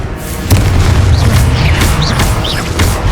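Repeated Confringo blasting-spell explosions in the Hogwarts Legacy video game: deep booming bursts with rumbling low end, sparkling magical whooshes layered over them, loud and continuous.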